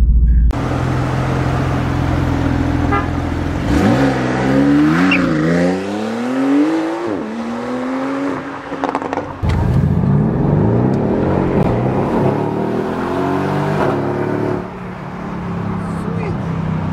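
A Mercedes-AMG GT R supercar revs hard while driving, its engine note climbing and dropping through several loud acceleration pulls with gear changes. A deep, rumbling exhaust dominates throughout, with a brief tire squeal and some cabin noise.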